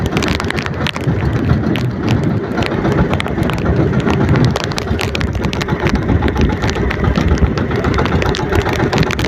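A boat engine runs out at sea during a sudden squall, its steady loud drone buried under heavy gusting wind buffeting the microphone throughout.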